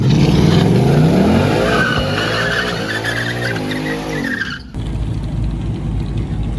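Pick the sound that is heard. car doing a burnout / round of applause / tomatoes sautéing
car doing a burnout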